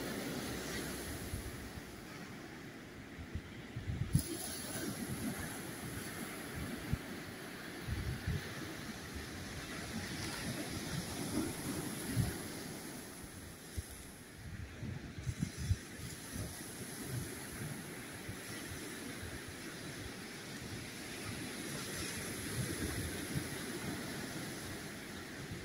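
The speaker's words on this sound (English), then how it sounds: "Sound of the waves in the dark." Ocean waves breaking on a beach at night, a steady continuous wash of surf with rolling low rumbles and occasional louder surges, no voices.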